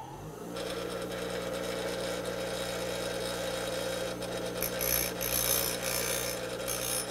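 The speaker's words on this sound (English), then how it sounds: "I'm just going to grind from about here up and reduce its drilling size." A drill bit, still chucked in a drill, is ground on a bench grinder with a steady humming whine and a rough rasping edge that grows grittier toward the end, close by with no talk.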